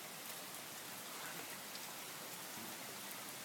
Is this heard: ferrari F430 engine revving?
no